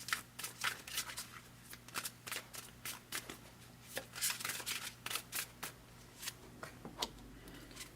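Tarot cards being shuffled and drawn, with soft, repeated riffling and flicking card sounds in irregular bursts, close and quiet, with no talk.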